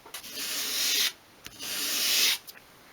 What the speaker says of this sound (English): go that way along the sandpaper, just in the one direction, so that you don't round off the edges